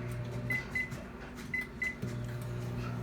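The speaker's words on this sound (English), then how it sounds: "we're going to put it in the microwave for 3 minutes" A microwave oven heating a bowl of noodles hums steadily at close range, while a few short high electronic beeps from its keypad sound twice in quick pairs, and the running drone restarts toward the end.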